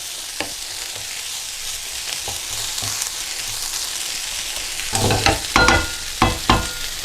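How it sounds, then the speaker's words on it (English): Chili con carne mixture with spices blooming in a pan, a constant soft sizzle under the spoon, then several louder scraping stirs and knocks toward the end, no talking. "I'm just going to get this in here, stir it around, then put the tomatoes in."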